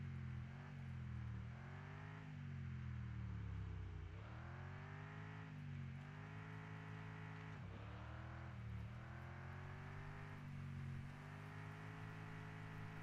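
A car driven in the video game Mon Bazou, its engine droning steadily and rising and falling through repeated revs and gear changes, close and continuous with no talk.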